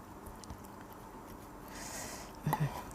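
Close-up chewing and biting of Thai fermented shrimp (kung jom) from Korat, eaten by hand with rice and fresh vegetables: soft, moist mastication with a couple of louder crunchy bites near the end, no talking.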